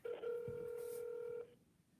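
A steady electronic telephone tone sounds on a phone call, holding one unbroken pitch for about a second and a half before cutting off, with faint low background noise underneath.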